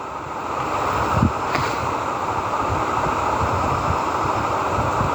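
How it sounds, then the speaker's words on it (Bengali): Waves wash against the Padma riverbank in a steady, moderate rush of water mixed with wind noise, close to the listener and with no talking. "একটু ঢেউ আছে ব্লগ পদ্মা নদীর পাড়ে"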